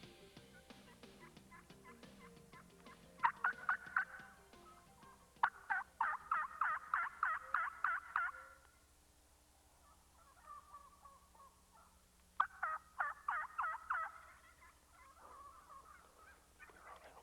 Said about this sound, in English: The gobblers are locked in tight flocks with many, many hens.